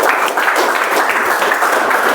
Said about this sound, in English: Please give a round of applause for Toastmaster Mazahir.